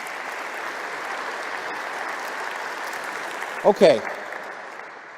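A debate audience applauds, a steady even wash of clapping held at a distance for several seconds, broken near the end by a brief spoken word close by.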